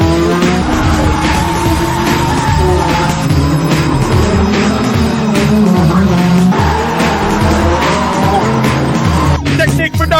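A rally car drifts with sustained loud tire squeal and a roaring engine throughout, dense and close, with a brief burst of clatter near the end.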